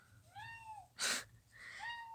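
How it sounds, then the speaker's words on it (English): A cat meows twice, close and fairly quiet, the two rising-falling cries split by a brief rushing breath-like burst. "And my cat joined in."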